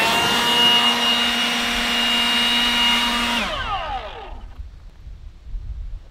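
A power blower clears debris off a cabin roof, roaring steadily at close range, then its motor winds down and falls quiet, leaving faint scattered noise.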